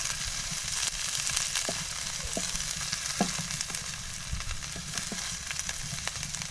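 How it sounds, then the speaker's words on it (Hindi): Sliced bell pepper and vegetables fry in hot oil, giving a steady close sizzle with small crackles and occasional stirring clicks throughout. "जस्ट 2 मिनट हमने इनको फ्राई करना है इधर"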